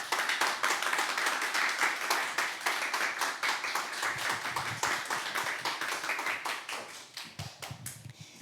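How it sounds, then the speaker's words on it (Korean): A church congregation at a Wednesday worship service claps to welcome speakers to the front, a rhythmic run of close, crisp handclaps keeping a steady beat before tapering off. "Please welcome them with a round of applause."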